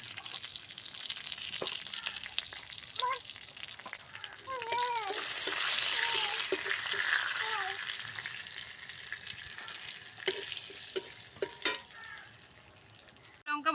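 Bay leaf and whole cumin seeds sizzle in hot oil, a steady crackling fry with stirring clinks and occasional bright scrapes, close and fairly quiet, with no talking.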